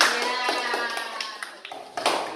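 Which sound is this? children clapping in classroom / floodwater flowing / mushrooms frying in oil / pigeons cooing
children clapping in classroom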